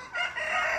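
A young male turkey, a jake, gives a short, hoarse, strained call that rises and holds for under a second, close and fairly loud.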